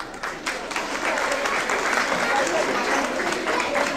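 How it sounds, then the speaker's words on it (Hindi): Crowd at a Pakistani independence day gathering breaking into sustained applause, steady and even after a brief start, with voices audible amid the clapping. "इनके लिए तालियां बजाएं।"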